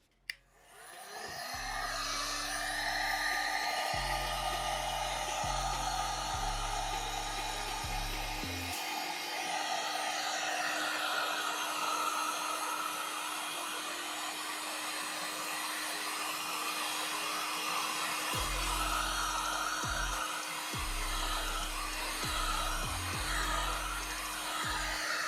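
Heat gun blowing steadily to shrink heat shrink tubing while wiring PowerCON connectors on a DJ console; a continuous close whooshing hum with a low motor tone that runs alone for the whole stretch.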